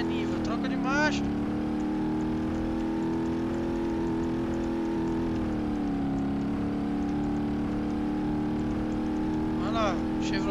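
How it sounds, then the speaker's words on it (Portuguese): Chevrolet Niva engine in BeamNG.drive revving with a steady buzzing drone, pitch dipping briefly as a gear change comes in around the middle, with tire chirps at the start and end and someone talking over it. "Chevrolet Niva, troca de marcha."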